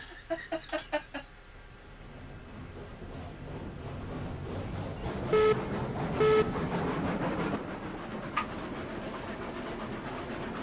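A train running in the game Railroads Online, a steady low rumble of rolling stock with two bursts of a whistle or horn midway, and a short sharp clank near the end.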